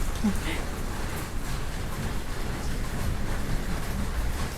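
Steady rain patters and hisses continuously, a dense wash of drops on surfaces with no voices.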